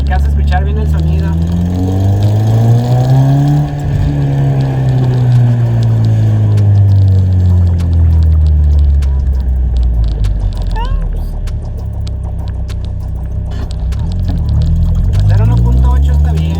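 A Volkswagen Golf GTI MK2 with a 1.8 engine and aftermarket exhaust muffler idles and revs, deep rumbling tones rising and falling loudly and close throughout.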